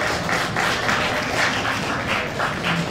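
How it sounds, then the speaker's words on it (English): An audience at a magician's comedy stage show applauds, a dense, fairly loud wash of clapping with a few individual claps standing out, continuous throughout. "Give me a big round of applause."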